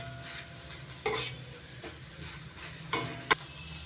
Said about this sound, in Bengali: সজনের শাক এবার একটু নাড়াচাড়া করে দিচ্ছি